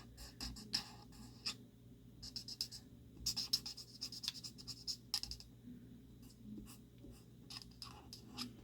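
Colored pencil shading on paper with the narrow end of the pencil, heard as soft, close scratchy strokes in irregular bursts, with no talking.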